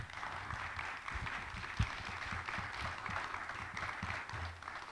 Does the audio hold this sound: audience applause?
yes